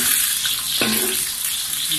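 An egg frying in a pan for squid fried rice gives a loud, steady close sizzle that fills the whole stretch, with a faint voice briefly under it.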